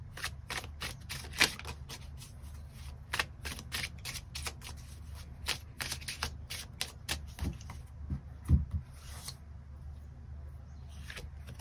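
Tarot cards being shuffled and drawn by hand, with a steady run of crisp, close riffling flicks and soft slaps that continues without pause, set over a low background hum, with no talking.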